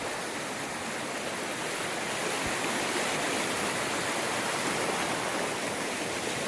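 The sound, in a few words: river flowing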